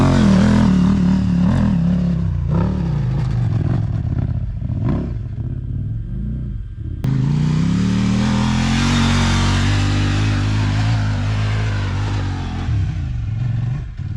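A KTM 890 Adventure R rally motorcycle climbs a steep desert hill, its engine loud and close, revving and labouring with a brief drop in the middle before surging again.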